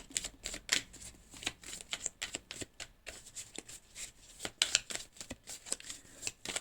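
Tarot-style fortune-telling cards are shuffled close up, a quick run of crisp riffling flicks and slaps in uneven bursts, fairly quiet, with a card finally drawn.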